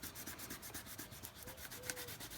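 Close, quiet rhythmic rubbing as a finger works oil pastel into the cracks of a handmade faux-relic journal tag, soft repeated strokes about twice a second with no talking.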